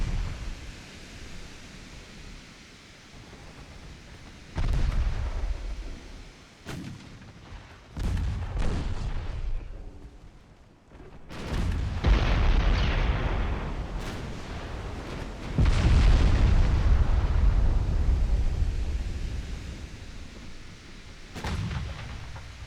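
Warship main guns, including a single bow-mounted 10-inch gun, firing in an 1893 Ottoman naval campaign game: repeated heavy, booming salvos at irregular intervals, each followed by a long rumbling roll.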